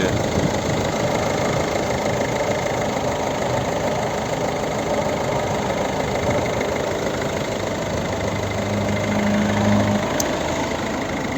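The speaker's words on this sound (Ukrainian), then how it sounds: "От робота двигуна." A 2010 Volvo V50 facelift's 1.6 diesel engine idles in a steady, even hum throughout, with a faint mechanical clatter and no voices.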